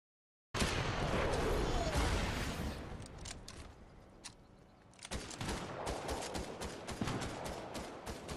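Gunfire in the video game Fortnite: a dense burst of rapid shots that fades, a brief lull, then another long run of crackling automatic fire, loud and close, with little talk.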